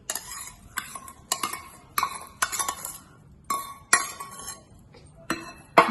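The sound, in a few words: pouring oil tempering into lemon pickle, utensils clinking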